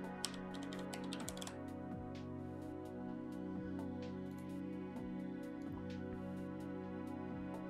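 Keys tapped on a computer keyboard while a password is entered, scattered light clicks in short bursts over a steady electronic hum, fairly close and soft.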